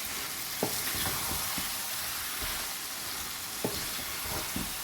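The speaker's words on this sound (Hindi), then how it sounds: "यहाँ भी हम तकरीबन 4-5 मिनट तक इसको भूनकर और इसमें इसको दम पे लगा देंगे" Potatoes and cauliflower stir-fried in a pan for aloo gobhi, a steady close sizzle with a few sharp scrapes and clinks of a spoon stirring through the mix.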